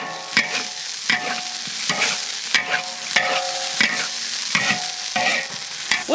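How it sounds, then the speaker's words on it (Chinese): Grass carp pieces with frozen tomatoes and green peppers are stir-fried in a pan, a loud continuous sizzle broken by rhythmic scrapes and knocks of the spatula, with no talk. "给它炒一下"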